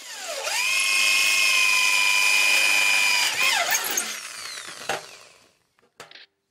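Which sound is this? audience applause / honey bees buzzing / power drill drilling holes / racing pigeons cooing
power drill drilling holes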